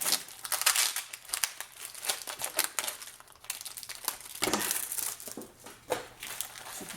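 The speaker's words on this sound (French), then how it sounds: "C'est difficile à déballer." A crinkly plastic package of scrapbooking mail is unwrapped, giving close, irregular bursts of crackling, rustling and tearing that come and go without talk.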